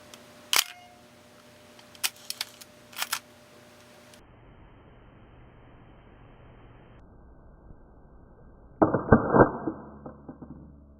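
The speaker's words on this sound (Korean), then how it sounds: "펜탁스 MX의 정상적인 셔터 모습을 보여드릴게요." A Pentax MX 35mm film camera shutter fires in a few sharp, close mechanical clicks spaced over the first seconds, then after a quiet stretch a denser burst of clicking and winding-lever rattle, with no talking.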